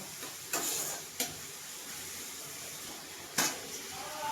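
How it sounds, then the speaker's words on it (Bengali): Ginger, garlic and onion frying with spices in a pan make a steady, soft sizzle with a few sharp stirring clinks against the pan, heard close and fairly faint without talk. "এই যে আদা রসুন পেঁয়াজ কিন্তু একটু মোটামুটি ভাজা ভাজা হয়ে গেছে"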